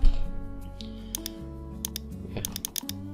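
Fingers tap out a website domain name on a computer keyboard, crisp, close key clicks arriving in quick irregular bursts with short pauses between them.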